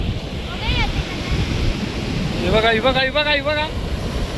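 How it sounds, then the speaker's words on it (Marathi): Incoming tide at Khavane beach in Malvan washes in as a continuous, fairly loud rush of surf and wind, with people's voices calling out over it toward the end. "आणि भरती आलेली आहे समुद्राला"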